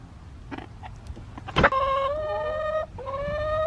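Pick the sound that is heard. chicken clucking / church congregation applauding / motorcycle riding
chicken clucking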